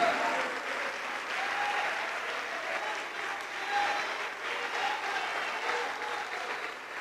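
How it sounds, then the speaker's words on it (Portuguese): A church congregation claps at a worship service, with sustained, dense applause filling the hall for several seconds while a voice speaks over it. "vamos aplaudir mais, igreja"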